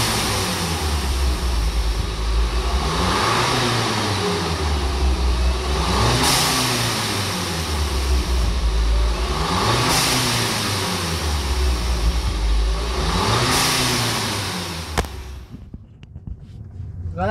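A turbocharged Volkswagen Jetta engine revs loudly and repeatedly up close, each climb cut off by a sharp hissing whoosh from a Forge blow-off valve.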